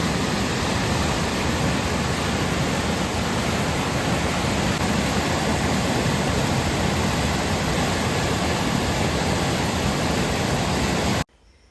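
A swollen river in spate roars as a loud, dense, continuous rush of flowing water close by, unbroken for the whole stretch before cutting off abruptly at the end.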